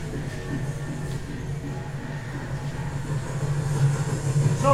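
A steady rumble of a train running, played as a stage sound effect in a theatre production, a continuous low drone with faint rattling, holding even throughout with no voices.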